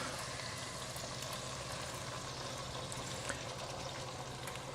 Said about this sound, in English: So we're going to go ahead and get our beans added with the juice